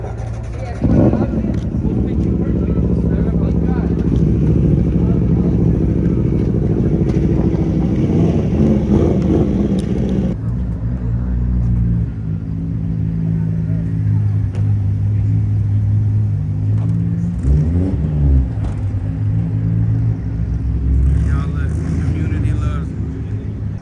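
A supercharged 392 engine fitted with a Whipple blower rumbles and revs loudly at a car meet, sustained and close, with a deeper drop-off partway through and people talking over it.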